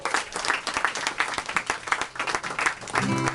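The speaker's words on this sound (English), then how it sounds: "Please give her a round of applause as well." Steady applause from a crowd at Zinc Bar in New York City, dense clapping filling the room for a few seconds before a voice begins over it at the end.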